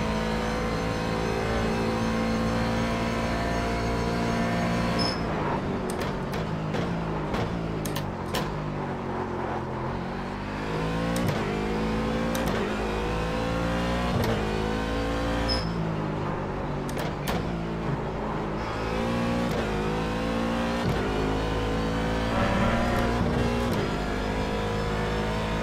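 An IMSA Daytona Prototype race car engine in the iRacing video game drones loudly and continuously, rising and falling through upshifts and downshifts with sharp gear-change blips, steady and close throughout.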